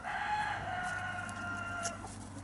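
Hens cluck and murmur in a 4 by 2 metre chicken run on an allotment, a close, steady chorus of drawn-out calls with no talking.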